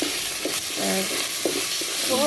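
Food stirred and sizzling in a pan over a traditional clay stove, with short scraping stirs and soft frying crackle repeating every second or so, close and steady.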